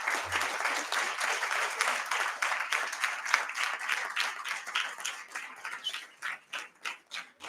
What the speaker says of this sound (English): This one really deserved a good applause